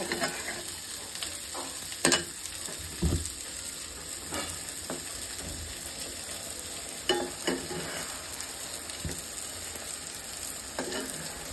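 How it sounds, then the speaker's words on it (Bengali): Raw rui fish cooking down with spices in a pan for a cauliflower curry, a soft, even sizzle heard from close by with occasional knocks and scrapes of a spatula, no voices. "মাছ ভাজি হচ্ছে"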